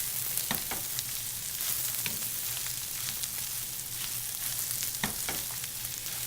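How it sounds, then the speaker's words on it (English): Crispy browned bacon fries in a pan with a steady, close hissing sizzle, punctuated by a few sharp pops and light stirring clicks. "Bacon is nice and crispy and brown."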